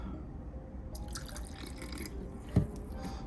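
A small dose of rinseless car wash concentrate poured into a bucket of water, giving a faint liquid trickle with a single brief plop, over a low steady background hum.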